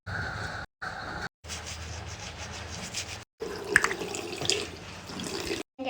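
Tap water runs into a sink during morning tooth brushing, a steady hiss and splash broken by brief cuts, with some louder drips and rubbing sounds near the middle.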